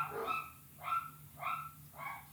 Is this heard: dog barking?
yes